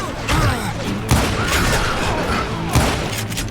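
Gunfire in the Western shooter Call of Juarez: Gunslinger, a loud, close fusillade of shots with a few sharp booming reports standing out over a busy, echoing battle din.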